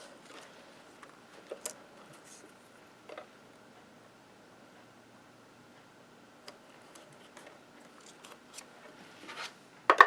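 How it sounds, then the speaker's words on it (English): Scissors cutting out a paper leaf for a greeting card make sparse, faint snips and rustles spread across a quiet stretch, with a louder cluster of clicks at the very end. "One more leaf here to cut out."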